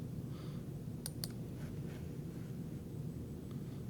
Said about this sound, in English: I'm going to click on my Google Apps.